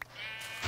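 A single sheep bleat in the video game Minecraft, a short wavering cry heard close and alone, without talk.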